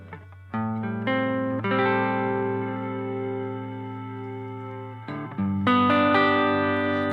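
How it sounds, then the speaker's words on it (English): Electric guitar chords played through a BOSS GT-1000 multi-effects unit with reverb and delay engaged, several sustained strums ringing out and trailing into washy echoes, loud and clean with no talking. "bringing the reverb on, and putting some delay in"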